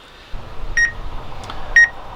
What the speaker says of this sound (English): Well, the drone is beeping at me. This doesn't like being close to obstacles.